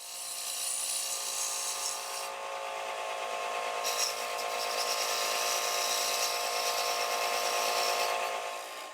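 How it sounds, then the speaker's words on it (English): A wood lathe spins a beaded-rim bowl while an Easy Wood Tools detailer rounds over the bead, giving a steady, close scraping hiss that runs unbroken for the whole stretch. "Now with the easy detailer, carefully round over the bead"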